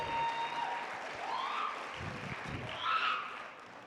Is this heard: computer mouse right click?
no